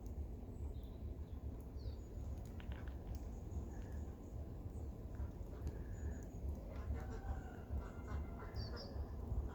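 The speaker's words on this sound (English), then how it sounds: "You can hear the chicken as well, and they're already up and early this morning" Chickens cluck on a farm early in the morning: scattered, fairly distant bird calls over a steady outdoor background rumble, with no talking.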